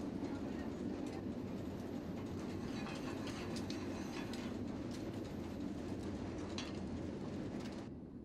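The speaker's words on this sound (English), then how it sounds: "the train pulls out of Invermere" Royal Canadian Pacific passenger train rolling south from Invermere through a valley in early morning darkness, a steady loud rumble with faint clickety-clack of wheels on rails throughout, with a few distant bird calls.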